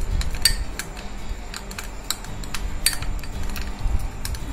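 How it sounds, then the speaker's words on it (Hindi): A spoon scrapes and clinks against a bowl while a homemade coffee face pack is stirred, with repeated sharp metallic taps in an irregular rhythm, close and fairly quiet, with no talking. "हम इसमें कॉफी को मिक्स कर रहे हैं"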